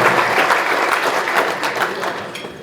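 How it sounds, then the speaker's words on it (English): Sustained audience applause at a Tallahassee Quarterback Club meeting honoring Jeff Culhane, a dense, steady wash of many hands clapping at fairly close range, easing slightly toward the end. "let's give a round of applause for Jeff Culhane"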